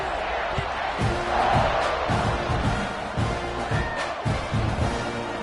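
Stadium crowd in the College Football 26 video game buzzing after a score, a steady dense roar of many voices with rhythmic low thumps, as before a kickoff, continuous and fairly loud throughout.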